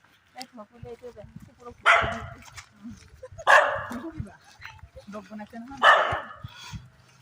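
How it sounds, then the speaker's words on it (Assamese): A dog barks in three loud, sharp bursts spaced a second or two apart, with people talking around and between them. "ভুকি আছে কাক বা ভুকিছে ক'ব পৰা নাই"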